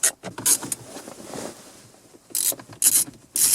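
Scraping, ratcheting bursts from unscrewing a screw holding a dashboard module in a Peugeot 207, close up, in irregular short spurts with quieter rubbing between them.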